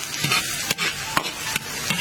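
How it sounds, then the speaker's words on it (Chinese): Seasonings sizzle in plenty of hot oil in a wok, a dense close crackle of frying with rhythmic scraping strokes of a spatula every half second or so, with no talking. "锅里多倒点油，炒调料"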